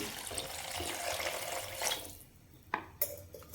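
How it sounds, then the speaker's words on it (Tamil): Water pours steadily into a pot of vegetable soup with a bright, splashy rush, then stops, leaving a few faint drips and small clinks. "சூப்புக்கு தேவையான தண்ணி ஆட் பண்ணிக்கலாம்."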